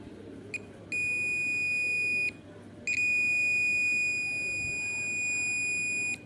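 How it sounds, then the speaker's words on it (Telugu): A digital multimeter in continuity mode gives two steady high-pitched beeps as its probes touch, the first about a second and a half long and the second longer, heard over faint background noise. "2 knobs టచ్ చేస్తే మనకు బీప్ సౌండ్ రావాలి"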